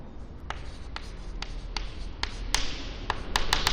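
Writing on a board in a college physics class, heard as a series of sharp taps and short scratchy strokes from chalk or marker, close and fairly distinct over a soft room background.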